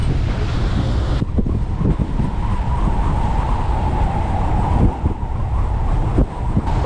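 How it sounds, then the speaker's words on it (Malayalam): Strong wind buffets the microphone on the open deck of a Gordon River cruise boat near Strahan, Tasmania, a loud continuous roar with rumbling gusts and the faint wash of water underneath, and no voices. "ഭയങ്കര കാറ്റ്."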